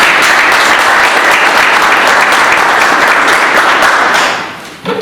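Loud, dense applause from an audience at an MLC party federation gathering in Germany, a steady wash of many hands clapping that holds for several seconds and then fades near the end.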